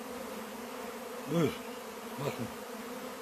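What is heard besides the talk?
honeybees buzzing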